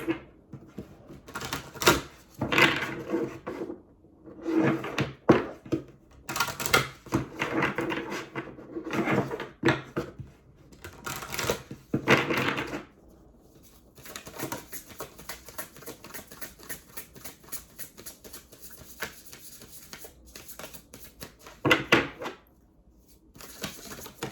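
Tarot or affirmation cards being shuffled by hand in a quiet room, a run of soft, rapid riffling and patting bursts with brief pauses between them, close and fairly faint.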